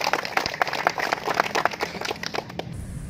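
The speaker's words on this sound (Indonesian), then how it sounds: "Ya, tepuk tangan dulu." Dense crowd clapping at a karate training sparring session, a steady crackle of many hands that carries on for about three seconds and then stops abruptly.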